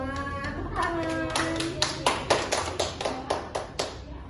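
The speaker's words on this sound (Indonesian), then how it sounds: "Tepuk tangan." Schoolchildren clap together in a classroom, a rhythmic run of sharp claps building after some brief chatter and a voice at the start, then settling into a steady beat of distinct, fairly close claps.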